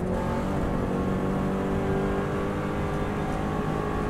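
A Subaru race car holds full throttle on a flat-out uphill road-course section, its engine a loud, steady, sustained roar from up close with no letup and no voices.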